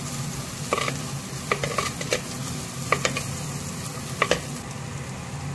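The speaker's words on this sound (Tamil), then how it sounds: "நல்லா இப்போ ஃப்ரை பண்ணுங்க" Soft, steady sizzling of garlic and ginger frying in oil in a pan, broken by occasional scraping clicks as a utensil stirs through it.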